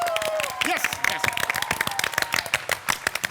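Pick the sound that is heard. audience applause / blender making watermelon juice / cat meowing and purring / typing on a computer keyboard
audience applause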